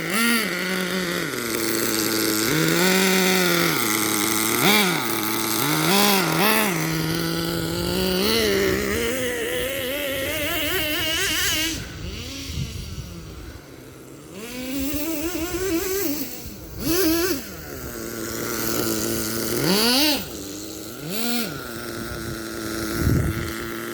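A fuel-powered RC monster truck engine idles loudly and steadily up close, its buzzing tone wavering and surging slightly in pitch, with wind noise over the microphone and no talking.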